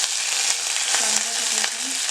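Curry leaves sizzle and crackle in hot oil for a Maharashtrian pithla, a steady close hiss for a couple of seconds with a few sharp pops.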